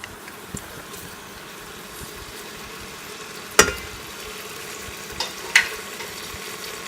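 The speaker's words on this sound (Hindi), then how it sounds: "ये हमारे प्याज ब्राउन हो गए हैं।" Onions frying in desi oil in a pan, an even close sizzle with a few sharp stirring clinks breaking through, no one speaking.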